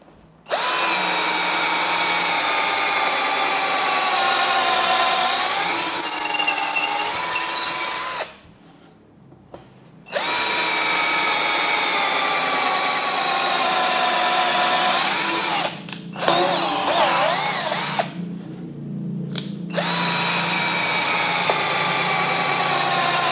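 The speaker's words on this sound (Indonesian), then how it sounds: "sekarang kita coba dengan mata bor kayu ya" A cordless drill whines at high speed as it bores through wood, running in long steady bursts with short pauses and pitch dips under load.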